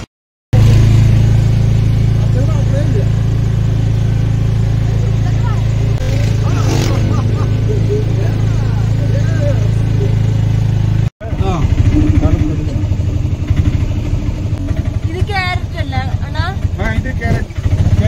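Auto-rickshaw engine chugging steadily on an early-morning ride near Ooty, a loud close drone with rattling and shifting revs, briefly cut off midway, while voices talk over it.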